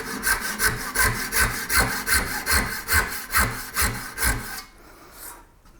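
Custom BearKat hand saw with 18 TPI teeth cutting wood: about ten even, rhythmic push-pull rasping strokes, close and clear, ending with a short quiet tail.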